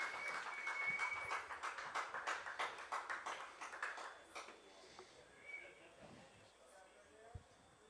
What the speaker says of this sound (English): how about one more round of applause for your graduating Central Maine